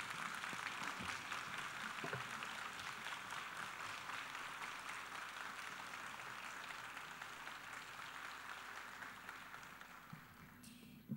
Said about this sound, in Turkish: Alkışlarımıza ara vermiyoruz.